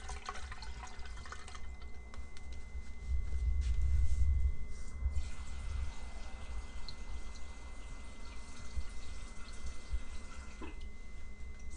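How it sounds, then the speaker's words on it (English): Water poured into a draining jelly salad mixture in a home kitchen, a steady splashing trickle that swells briefly then settles into a soft continuous flow with faint drips. "So I'm just gonna pour the water in here to help let it go down a bit more."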